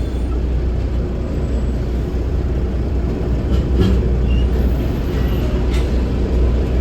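Freightliner semi truck rolling past on the highway, a loud sustained rumble and road roar that swells slightly as it goes by, heavy low-end throughout.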